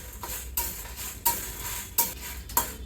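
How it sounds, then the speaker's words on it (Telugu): Fenugreek seeds and black pepper stir-roasted over a low flame in an iron pan, with a steady soft sizzle broken by several sharp scraping strokes of the spatula, close up and with no talking. "ఇనప పెనంలో వేయించుకుంటే మనకి ఆ మెంతులు మిరియాలన్నీ లోపల వరకు ఎగుతాయి అనమాట."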